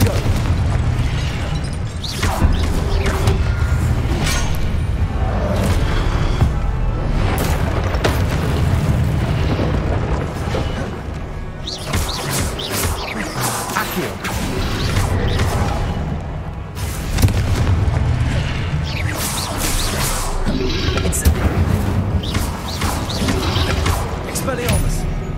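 Repeated blasting-curse explosions from fire spells in the Hogwarts Legacy video game, booming bursts recurring steadily over dense game music and effects, with a voice casting spells in between.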